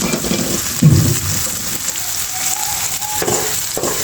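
Red amaranth greens fry in a pan: a loud thump as they land, then a continuous close sizzle with light crackling and faint stirring, no talk.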